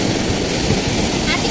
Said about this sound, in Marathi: आणि ते लाटा पण खूप मोठी मोठी येत आहेत।